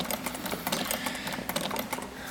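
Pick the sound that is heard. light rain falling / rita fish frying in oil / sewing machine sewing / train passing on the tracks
sewing machine sewing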